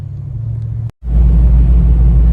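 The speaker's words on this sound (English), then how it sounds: "Cruising the old box Chevy down 287" A 1980s-style box Chevy with a 408 stroker engine cruising on the highway: a loud, steady low rumble, with a brief cut to silence partway through before the drone resumes.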